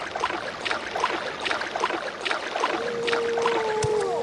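A silt strider, the giant flea creature from the game Morrowind, lets out a long, drawn-out tonal moan that rises and bends over steady ambient wind-like noise during the second half, with no talking.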